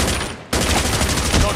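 Rapid gunfire from a video game shooter fills the whole stretch, a dense continuous burst of loud shots that briefly dips before resuming at full intensity, with a voice faintly mixed underneath.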